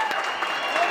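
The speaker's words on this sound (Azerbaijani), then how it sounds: "Haydi azarkeşlər, alqışlarınız" Football fans at a stadium applauding a goal, a brief burst of crowd clapping with a voice talking over it.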